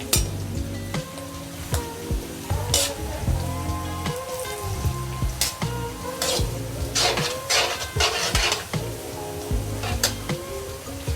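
Onions frying for a tadka in a pan sizzle steadily and close by, with scattered metallic clinks and stirring scrapes throughout and no voices.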